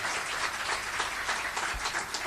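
An audience applauds at a literary tribute event, a steady burst of many hands clapping together without letting up.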